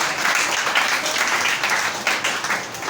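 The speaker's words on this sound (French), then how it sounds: "Il faut qu'on se chauffe un peu avec les applaudissements." A church congregation applauds steadily and fairly close, a dense, even wash of clapping with no talk over it.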